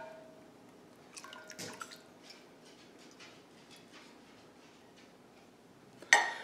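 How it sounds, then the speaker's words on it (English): Simple syrup pours into a container for limoncello, a quiet trickle with small drips and light clinks of glass, ending in a sharper knock. "Next, we are going to add 1 1/3 cups of simple syrup"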